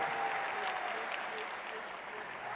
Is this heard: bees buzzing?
no